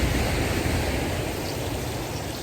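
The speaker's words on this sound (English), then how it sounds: "Hopefully you can hear me above the sound of the sea" Sea waves wash continuously onto the Moray Firth shore at an evening campsite, a steady broadband roar of surf with no break, fairly loud and close, with no voices.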